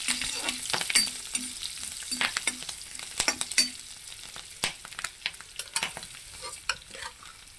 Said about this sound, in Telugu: ఇప్పుడు వచ్చి పచ్చిమిర్చిని అల్లం వేసుకుంటున్నాము. సో ఇలా పేలుతుంది కాబట్టి కొంచెం దూరంగా ఉంటారు